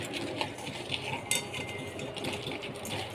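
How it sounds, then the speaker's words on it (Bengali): Eggplant pieces tossed and rubbed with salt and turmeric in a metal bowl, soft clinks and scraping clatter in irregular bursts, close and fairly quiet. "হলুদ দিয়ে বেগুন আমি মেখে নিচ্ছি"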